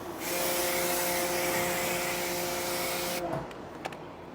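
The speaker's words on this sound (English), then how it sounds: "I just use my pressure washer" A pressure washer sprays Corvette fender liners with a loud, continuous hissing roar and a steady motor hum, cutting off abruptly near the end.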